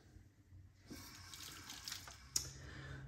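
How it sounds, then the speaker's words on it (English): Razor rinsed under a running tap after a shave, a faint, close hiss of water with a brief splash near the end and no talking. "so let's rinse"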